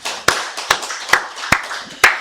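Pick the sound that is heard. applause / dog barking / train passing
applause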